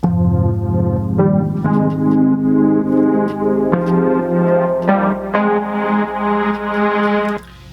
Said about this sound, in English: So together those 2 synths sound like this.